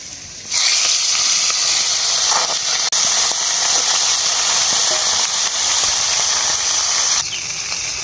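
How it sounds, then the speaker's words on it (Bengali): Fish sizzle loudly in hot oil in a wok. A sudden burst of frying hiss starts and holds as a steady, bright crackle, then drops abruptly near the end. "কড়ার মধ্যে তেল দিয়ে দেবো। মাছগুলো ভেজে নেব।"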